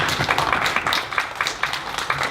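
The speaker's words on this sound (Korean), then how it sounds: "다시 한번 좀 박수 좀 부탁드리겠습니다." Close, loud applause from a lecture audience after a design tech talk, with individual claps clearly distinct in a brisk, uneven rhythm that continues throughout.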